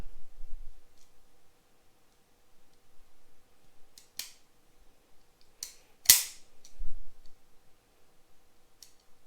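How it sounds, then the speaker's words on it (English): Mechanical clicks from a Ruger GP100 revolver's trigger being pulled and reset: a few sharp, close, dry clicks spaced unevenly over a quiet background, with one louder snap standing out. "Now, as far as the trigger reset on the Ruger, bring it out here."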